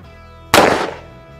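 A single loud gunshot fired at a homemade soft body armor panel, Level IIIA, in an outdoor test, sharp and close, decaying quickly into quiet.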